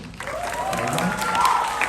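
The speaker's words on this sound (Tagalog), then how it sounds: "Kasi talagang ang palakpak doon ay matindi-tindi yata." Audience applause at a Filipino introduction program, steady clapping with some crowd murmur lasting throughout, moderately loud and fairly close.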